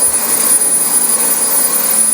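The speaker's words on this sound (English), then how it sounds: "if you end up vacuuming damp carpet, that can ruin your vacuum cleaner" A Dyson DC25 vacuum cleaner runs over dirty carpet, giving a loud, steady motor roar with a high whine that holds without a break.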